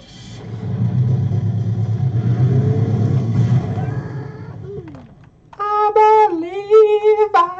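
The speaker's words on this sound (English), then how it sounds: "That is one big engine." A big truck engine in the Flash game Destructo Truck rumbles and revs loudly for several seconds, then fades, followed by a short tonal game sound.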